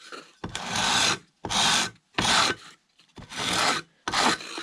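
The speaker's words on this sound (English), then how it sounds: "So I just go around with this sanding bar and I just feel where I'm at." Five rough, rasping strokes of a 2-inch sanding bar against wood on a control line model plane build, evenly spaced with short pauses between them, close and clear.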